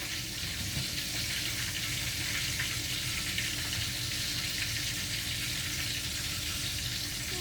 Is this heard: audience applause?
no